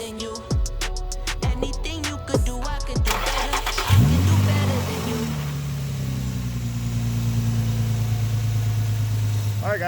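A straight-piped Infiniti FX35 engine cranks and fires, then settles into a loud, steady low rumbling idle with a brief rev at startup, heard close up with a few clicks before it catches.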